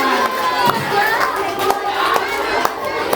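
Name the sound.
children clapping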